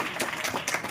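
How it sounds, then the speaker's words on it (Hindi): A crowd at an education summit claps in a burst of applause, dense and steady, with a faint voice mixed in. "आप लोग एक बार जोरदार तालियां इनके लिए भी बजाइए।"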